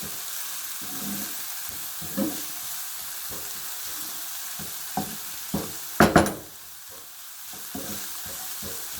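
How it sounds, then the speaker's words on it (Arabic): Onions frying in a pan, a steady close sizzle broken by intermittent scraping strokes of stirring and a louder clatter midway. "هاوليك نقلو شويه البصل تاعنا"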